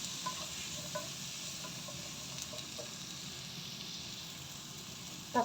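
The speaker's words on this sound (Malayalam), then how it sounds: "ഇനി ഞാൻ എടുത്ത് വെച്ചിരിക്കുന്ന തക്കാളി ചേർക്കും നന്നായിട്ട് ഇളക്കി കൊടുക്കും" Chopped tomatoes being stirred into a potato and green peas curry in a pan, a soft, faint, continuous sizzle with light scattered scrapes and a single sharper clink at the close.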